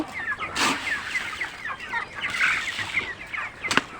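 Chickens on a poultry farm cluck and chatter in a dense, continuous flock chorus, with a couple of brief sharper bursts like wing flaps standing out.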